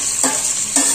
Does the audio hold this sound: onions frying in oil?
yes